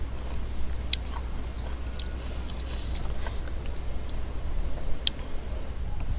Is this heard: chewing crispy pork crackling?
yes